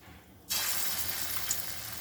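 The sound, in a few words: frying small lentil fritters (dal bora) in oil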